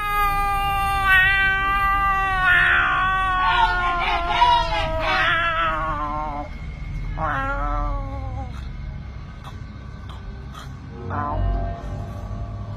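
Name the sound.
cry of purported parakang creature, Indonesia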